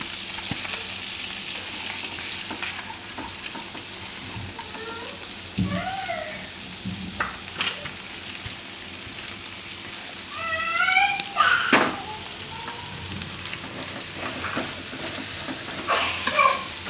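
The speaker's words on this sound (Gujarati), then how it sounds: "થોડીક વાર આમાં માખણમાં શેકી લેવાનું લસણ." Grated garlic sautéing in melted butter in a pan for spaghetti, giving a steady soft sizzle and frying crackle that runs throughout, with faint chirps and clinks over the top and no talking.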